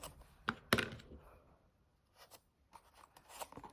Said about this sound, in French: On remet un petit coup de ciseau pour être sûr que ça passe